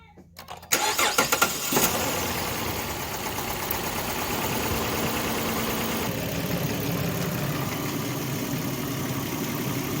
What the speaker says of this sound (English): So I'm going to start the engine here and start adding water